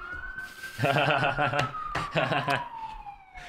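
A police car siren wails close by on a street in Los Angeles, a sweeping tone with short yelping bursts, loud over passing traffic while people talk under it.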